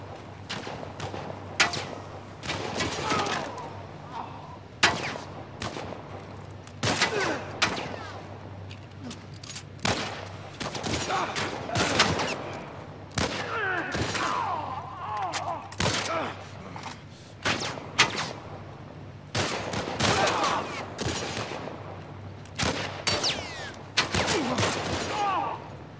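Intermittent gunfire bursts from a gun in The Last of Us Part I, during a fight on a bridge, sharp shots recurring throughout amid game ambience and occasional speech-like voices.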